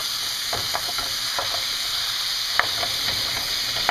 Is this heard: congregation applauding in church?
no